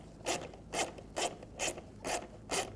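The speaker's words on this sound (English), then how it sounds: "I'm going to take these screws out. I'm going to use a T20" Ratchet with a T20 socket backing out tail light screws on a 2007-2013 Mini Cooper: six evenly spaced bursts of clicking, each a short ratcheting stroke, close and moderately loud with no talk.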